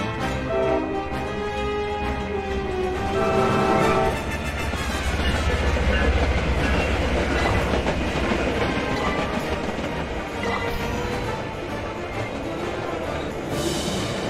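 A train in the VRChat game rolls steadily past with continuous rumbling and clickety-clack, loud and even throughout, with no talk over it.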